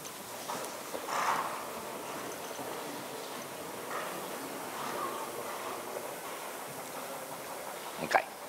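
A horse's hooves clip-clop in a steady trotting rhythm, faint and somewhat distant, with low background noise and no talking.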